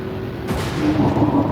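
Inside the Leviathan in Everspace 2, an explosion booms once with a sudden broadband blast, followed by a low, sustained rumble.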